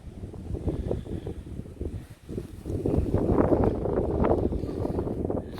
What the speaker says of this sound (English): So sorry about the wind noise